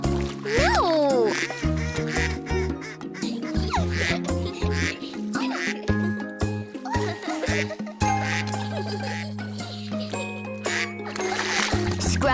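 Cartoon ducks quack repeatedly in a children's nursery rhyme, with bouncy music, squeaky effects and splashes around them.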